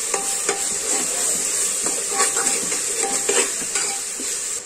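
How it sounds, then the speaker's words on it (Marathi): Ground ginger, garlic, coconut and coriander masala sautés in a pan, a close continuous sizzle and hiss with several clinks and scrapes of a utensil stirring against the metal. "आता मसाला परतून घ्यायचा."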